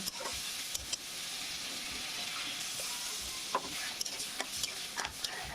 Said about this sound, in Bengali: টমেটো দিয়ে মশলার সাথে ভালোভাবে একটু কষিয়ে নেব